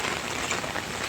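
Rain falls steadily in Hemayetpur, a soft, even hiss of drops on surfaces that continues without a break and with no voices over it.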